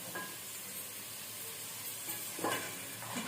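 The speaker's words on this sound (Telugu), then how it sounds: "ఇవన్నీ వేసుకున్న తర్వాత ఇప్పుడు మొత్తం అంతా బాగా కలుపుకుందాం." Crab curry ingredients are stirred together in a pan, a faint steady sizzle with soft scraping strokes, two of them louder.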